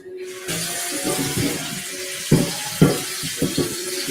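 A pan is washed under a running kitchen tap: a steady stream of water splashes continuously, with a few louder clunks and knocks as the pan is moved and scrubbed.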